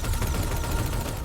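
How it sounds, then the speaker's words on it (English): Rapid overlapping blasts and booms from a grenade launcher and rocket launcher in the video game SPRAWL, a brief, loud, continuous barrage of explosive fire with no voices. "So now pretty much clear this level by using grenade launcher and rocket launcher combo."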